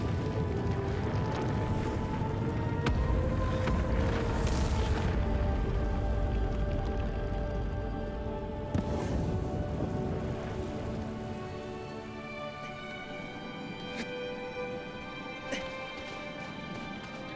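Rainstorm in the video game Shadow of the Colossus, a steady hiss of rain with faint drips and low rumbles beneath a swelling musical score that thins toward the end.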